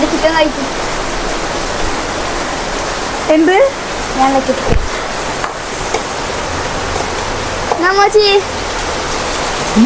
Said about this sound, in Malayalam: നോക്കി നോക്ക് പെരും മഴക്കാലം കണ്ടോ തുള്ളിക്ക് ഒരു കൊടാണ് കേട്ടോ